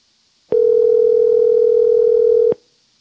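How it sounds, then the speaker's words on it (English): A 1950 Siemens Trommelwähler barrel-dialer telephone emits a single steady, clean tone lasting about two seconds, loud and alone against near silence. "This telephone is called a Trommelwähler, which literally translated means a barrel dialer."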